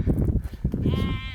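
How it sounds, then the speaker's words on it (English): Lambs bleating on a country road heard from inside a Lotus Evora 400 sports car, a short, close bleat rising over a steady low engine and road rumble. "Lambs. They're in the road."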